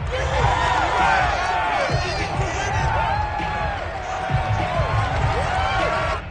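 A home crowd roars in a PS5 American football video game, a loud, sustained wall of cheering and whooping voices with rising yells, filling the whole span with a few dull thuds underneath.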